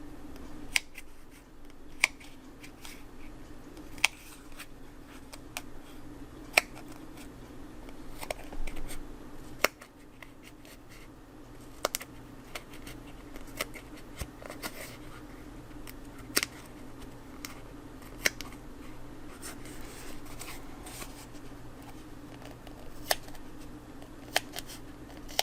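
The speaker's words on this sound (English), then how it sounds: "slant the scissors and just cut off that edge there" Sharp, intermittent scissor snips over a steady low hum, irregularly spaced, close by and fairly quiet, with no talking.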